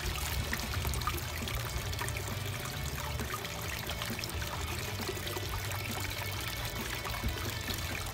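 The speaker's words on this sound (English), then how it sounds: "But you can see we still got really good water flow." Water gushing steadily from a small well drilling rig, a continuous close pour and trickle that stays even throughout, with no talking.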